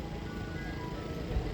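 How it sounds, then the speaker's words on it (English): An ice cream truck arrives at a school in Clovis, California, its faint chiming melody drifting over a steady wash of outdoor and traffic noise, with no one talking. "Guys, I can't believe an ice cream truck showed up."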